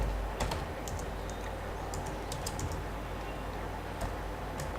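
Quick, light keystrokes clatter on a computer keyboard in irregular bursts, soft and close against a steady low background hum.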